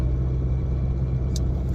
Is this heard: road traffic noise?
yes